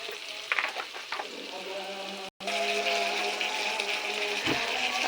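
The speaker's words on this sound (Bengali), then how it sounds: "এখন কিছুটা আমি ভাজা নিই আদা রসুনের পেস্ট" Ginger garlic paste fries with browning onions in a pan, giving a steady close sizzle with a few stirring scrapes early on and a brief cut in the middle before the hiss resumes.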